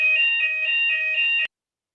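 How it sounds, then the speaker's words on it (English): A workplace fire alarm sounds during a test, a loud, steady electronic tone pulsing in a regular rhythm for about a second and a half before cutting off abruptly into silence. "Fire alarm at work, testing, thank goodness."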